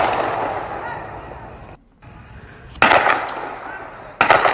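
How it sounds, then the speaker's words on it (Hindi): Two sharp bursts of gunfire during a joint police encounter with a criminal in Jharkhand, the first near the middle and the second near the end, over steady outdoor background noise, with no talk. "तो गोलियों की आवाज आप सुन पा रहे होंगे।"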